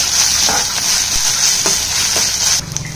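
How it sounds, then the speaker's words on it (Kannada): Onions frying in oil with ginger garlic paste, a steady close sizzle and hiss running throughout with a few soft stirring knocks, easing off near the end. "ಈರುಳ್ಳಿ ಸ್ವಲ್ಪ ಫ್ರೈ ಆಯಿತು"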